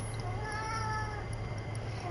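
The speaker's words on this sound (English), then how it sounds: "That's my cat." A house cat meows faintly in a room, a short drawn-out cry over a steady low background hum, with no talk.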